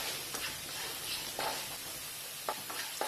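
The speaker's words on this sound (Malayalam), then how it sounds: "ഇനി ഇതെല്ലാം കൂടെ നന്നായിട്ട് വഴറ്റി കൊടുക്കാം" Shallots and curry leaves sauté in a pan for a Palakkad-style red chilli tamarind dish, giving a soft, steady sizzle with occasional light stirring scrapes.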